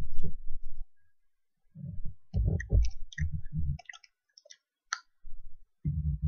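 Chewing gum crackling with dry, paper-like clicks and ticks, scattered in short close bursts between low, muffled thumps, with a few seconds of near silence midway.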